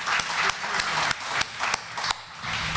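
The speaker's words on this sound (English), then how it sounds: "So could we give a little round of applause," A lecture audience claps after a lunch organizer is thanked, a modest round of applause with sharp individual claps and uneven bursts.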